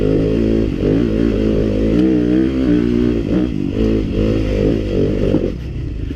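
A Yamaha YZ 250FX or KTM 300 XC dirt bike climbs the Razorback Trail in second gear, its loud, close engine droning steadily with wavering revs and some clatter, easing off near the end.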